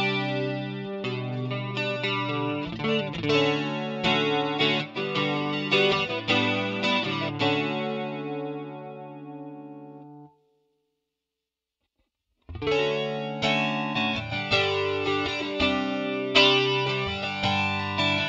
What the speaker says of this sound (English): I don't normally use a chorus or a flanger. Let me try them out and see what they sound like,